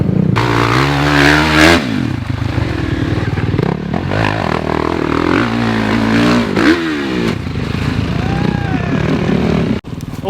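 A motocross bike rides a supercross track in fourth gear, its engine droning loudly and steadily with rising and falling revs, close and continuous for several seconds.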